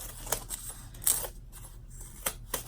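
Scissors snip through vinyl around the edge of a zip bag, a few sharp separate cuts spaced irregularly over a quiet background.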